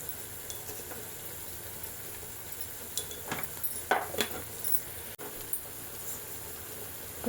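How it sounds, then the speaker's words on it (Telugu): Chopped onion pieces fry in a pan with a steady sizzle, with occasional utensil scrapes and stirring knocks against the pan midway, and nobody speaks. "ఉల్లిపాయ ముక్కలు త్వరగా వేగుతాయి."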